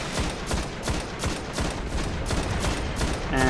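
A scout rifle in Destiny fires rapid repeated shots in a fast, even rhythm, loud and close, with no voices over the gunfire.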